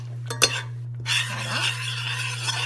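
Tomato paste is stirred in a cooking pot as the burner is lit, with a few close scrapes and knocks of a utensil against the pot over a faint soft sizzle and a steady low hum.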